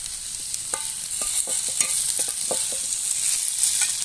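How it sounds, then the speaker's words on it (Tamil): Tomato is stirred into golden frying onions in a pan, giving a steady close sizzle broken by repeated scraping taps of the spoon. "இப்போ இதில் நம்ம வந்து தக்காளி ஆட் பண்ணிக்கலாம்."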